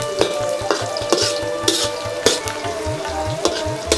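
Onions fry in a pan for broiler chicken bhuna, with a constant, close sizzle broken by rhythmic spatula scrapes and clicks against the pan roughly every half second.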